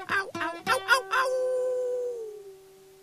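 A man imitates a dog with his voice, giving a few quick barking yelps and then a sustained howl that trails off and fades, heard alone.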